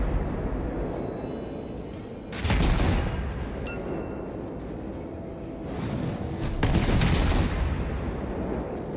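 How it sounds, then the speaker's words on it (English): Naval guns firing in a World of Warships battle, the Arpeggio Myoko in play: booming salvos with heavy rumbling blasts rising over a continuous roar of battle noise, two louder volleys standing out. "Get some more guns firing on him."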